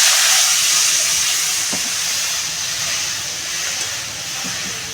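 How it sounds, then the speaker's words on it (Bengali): Water pours into a pan of hot oil seasoned with salt and turmeric, bursting into a loud, steady steaming hiss that slowly eases, with a couple of faint knocks underneath. "এই তেলের ভিতরে দিয়ে দেবো নুন এদিকে হলুদ আর এদিকে জলটা ঢেলে দেবো"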